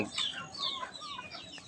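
Chickens and turkeys clucking at feeding time, with several overlapping high-pitched clucks and short calls close by, continuous and fairly busy, with no talking.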